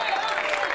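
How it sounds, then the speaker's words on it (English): An audience at a cooking show claps, a brief dense burst of many hands applauding at an even level, too short to hear it start or fade. "Let's give them a hand clap."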